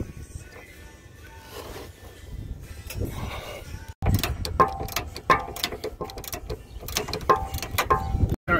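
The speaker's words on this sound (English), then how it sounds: "what I'm doing is taking off the pin hardware bolts." A ratchet wrench clicks rapidly while pin hardware bolts are removed from the rear suspension of a 2012 Ford Boss 302, close metallic ratcheting in repeated runs with clanks of hardware and no voices.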